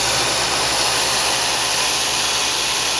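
The motor of a Kalamazoo Industries 2FS 2x48 inch heavy-duty belt sander runs with a steady, loud whirring hum that holds constant from start to finish, with no talking.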